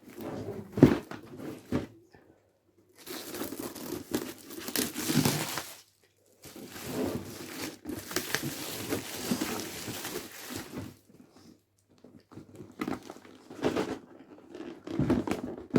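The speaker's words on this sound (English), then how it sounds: "let's flip it over and cut the cellophane off" Cellophane wrap being cut and peeled off a Bolt Action 2nd edition wargame starter box, with several bursts of crinkling, tearing plastic separated by short pauses, close and fairly loud.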